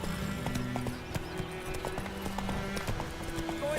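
Roach, the horse in The Witcher 3, gallops with quick, rhythmic clip-clop hoofbeats on the ground, steady and moderately close, with faint background ambience.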